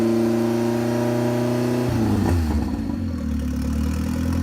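A turbocharged car engine is held at steady high revs under launch control, a droning harmonic tone that drops sharply partway through and settles into a lower, rougher engine note, loud and close with no voices.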